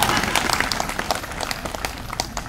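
An audience applauds at a Kannada spiritual gathering honouring Siddheshwar Swamiji: steady, dense clapping from a crowd, fairly loud and continuous throughout.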